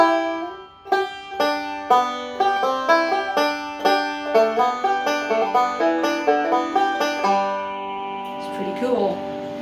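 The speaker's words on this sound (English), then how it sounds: "when you play it on the banjo, it sounds like this." A bluegrass banjo plucks a simple, bouncy melody, bright picked notes in a steady rhythm, close and clear, ending with a few trailing strums.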